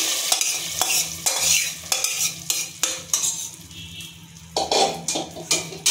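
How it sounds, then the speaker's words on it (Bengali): A sizzling tempering with green chilli pieces hits a pot of dal, followed by repeated close clanks and scrapes of a metal spoon stirring the pot, with a steady hiss between strokes. "এবার আমি তরকাটা ঢেলে দিচ্ছি।"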